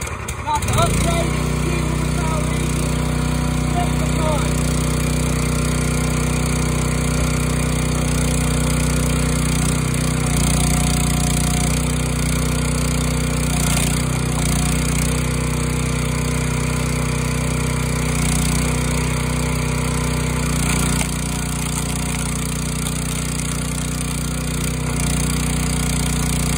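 A 22 ton Rugged Made log splitter's small gas engine runs steadily with a loud, continuous mid-pitched drone and slight throttle changes, close by, with occasional voices under the noise.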